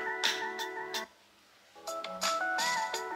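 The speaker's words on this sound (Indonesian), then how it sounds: "Speakernya mantep, stereo atas bawah." Melodic ringtone-like tune played through the stereo top-and-bottom speakers of a Samsung Galaxy Note 20 Ultra phone, bright repeated notes in two bursts with a brief pause between, clear and close.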